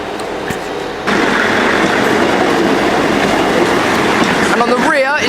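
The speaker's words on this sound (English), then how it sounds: "Pulling in now is going to be the 1119 South Western Railway service from Salisbury to London Waterloo." A Class 159 South Western Railway diesel train, units 159007 and 159012, pulls into London Waterloo with a loud steady rolling rumble of wheels and engine, rising as it draws near, then squealing brakes near the end; someone talks over it.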